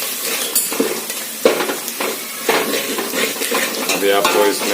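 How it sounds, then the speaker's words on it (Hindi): Onion, garlic and masala are stirred and scraped around a hot pan for a moong dal tadka. The sizzling is close and loud, with repeated spoon scrapes and knocks against the metal. "अच्छे से मिक्स करना है वापस आपको"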